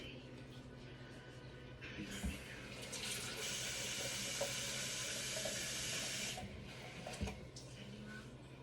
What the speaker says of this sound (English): That's why I'm putting cold water